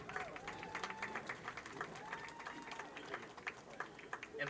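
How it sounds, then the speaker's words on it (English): Audience applause in the stands at a public safety football league championship game, a soft, steady wash of clapping from a distant crowd, faint and unbroken throughout. "Let's give a round of applause for both organizations for both bowl games."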